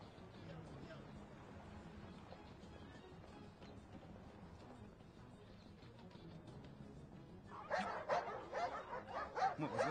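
Police dogs barking in a dubbed action film, a burst of repeated barks near the end rising over a low murmur of background noise.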